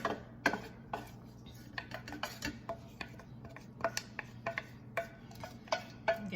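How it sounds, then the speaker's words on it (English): Scraping and clinking of a spoon against a slow cooker crock as drained ground beef and onions are added, heard as irregular close metallic taps and knocks over a faint background hum. "we're just going to add our ground beef and onions"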